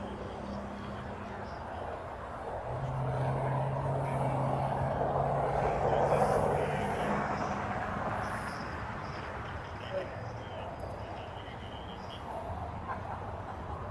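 A JetBlue airliner passing at LAX produces a broad, steady jet roar that swells toward the middle and then slowly fades, with a low hum underneath and no voices.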